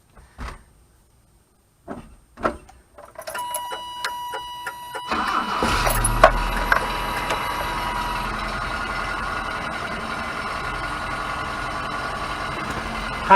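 A 1978 Toyota pickup cold-starts after sitting two days: a few clicks, a cranking starter, then the engine catches and settles into a steady idle that runs to the end, close and fairly loud.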